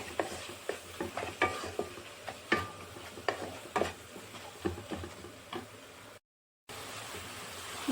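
Turmeric and spice masala being stirred and sautéed in oil in a pan for a Bengali bottle gourd dish, with soft sizzling under irregular scraping and clicking strokes of a spoon, then a brief drop to silence.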